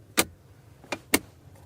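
Three sharp plastic clicks and thumps as a storage compartment lid in a VW ID.7 Tourer snaps shut, one then two more in quick succession, close and clear in a quiet space.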